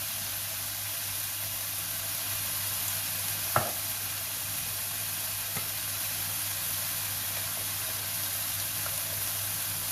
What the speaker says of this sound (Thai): พอหอยสุกเราก็จะใส่น้ำพริกเผาลงไปนะคะแล้วก็ปรุงรส